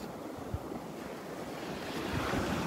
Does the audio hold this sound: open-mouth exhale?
no